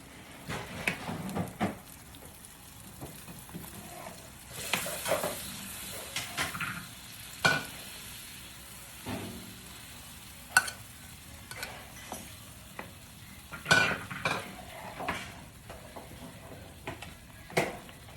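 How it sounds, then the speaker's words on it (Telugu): Paneer pieces stirred into a gravy curry in a pan, with irregular scraping and clinking of a spoon against the pan over a low simmering sizzle, close and without talk. "ఇలా మంచిగా పన్నీర్ పీసెస్ ఈ గ్రేవీ కర్రీకి కలిసేటట్టు మంచిగా కలుపుకోవాలి."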